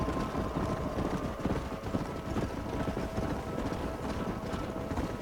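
Herded horses run in Red Dead Redemption, a dense, continuous drumming of hooves mixed with wind-like rushing noise, steady and close throughout.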